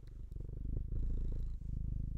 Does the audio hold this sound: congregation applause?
no